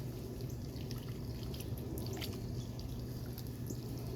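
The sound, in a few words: watering cucumber plants in soil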